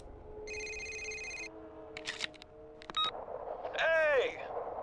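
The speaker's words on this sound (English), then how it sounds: "I think we're going to get a phone call." A phone rings in Need for Speed Most Wanted (2005) as an electronic ringtone with a short buzzy burst, followed by chirpy beeps and a falling sweep of tones over low game ambience.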